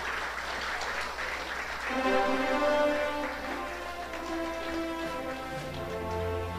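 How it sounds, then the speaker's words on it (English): An audience at a public service awards ceremony applauds the Governor General as she receives a bouquet, a sustained wash of clapping from a crowd heard over a background of steady musical tones. "Give her a big round of applause."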